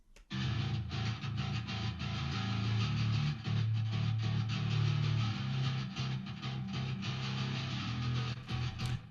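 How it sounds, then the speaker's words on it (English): Sustained low, growling metal bass notes, reverb only with no direct signal, sit inside a short, roomy reverb wash, played steadily for several seconds before stopping. "add in a classic room reverb,"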